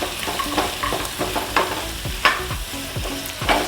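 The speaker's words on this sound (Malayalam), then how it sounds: "ഒരു തക്കാളി അരിഞ്ഞത്, 2-3 പച്ചമുളക് അരിഞ്ഞത്, ഇതൊന്ന് വാട്ടിയെടുക്കാം." Chopped tomato, green chilies and cashews sauté in a hot pan, giving a continuous sizzle cut by rhythmic spatula scrapes and stirs at close range, with no talking.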